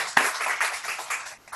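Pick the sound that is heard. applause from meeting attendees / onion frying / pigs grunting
applause from meeting attendees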